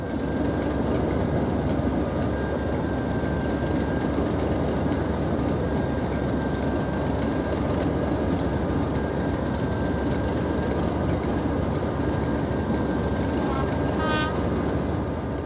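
A train hauled by an English Electric Class 55 diesel locomotive rumbles steadily past at close range, a dense broadband roar with faint rhythmic clicks and a brief high squeal near the end.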